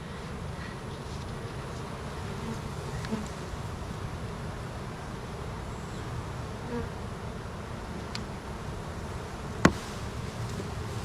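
Honey bees buzz around an open hive holding a virgin queen, a dense continuous drone close by, with a few faint clicks and one sharp tap near the end.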